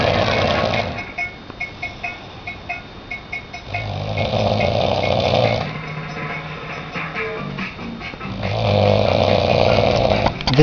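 A man snores loudly and close by in slow, regular cycles of long rasping breaths separated by quieter pauses.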